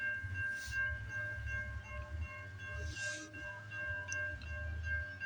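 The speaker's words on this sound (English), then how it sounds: "Listen to that horn." A CN freight train rumbles past at Stewarttown in the rain, a steady low roar with a sustained horn tone and brief hissing bursts, heard from trackside.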